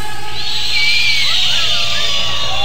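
Men in a large live concert crowd whistle loudly and continuously, shrill overlapping whistles over a dense roar of voices.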